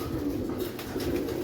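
Soft cooing of two pigeons with low, rounded calls over a steady rumbling background, fairly faint and continuous.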